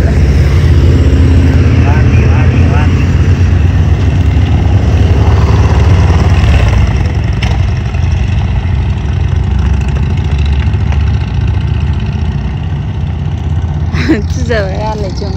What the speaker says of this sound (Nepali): बाइक रेस चलिरहेछ ल